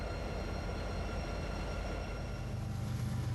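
A Union Pacific EMD SD40N rebuild locomotive hauling a train past in the Shreveport area, a continuous dense loud rumble with steady whining tones and deepening low roar toward the end.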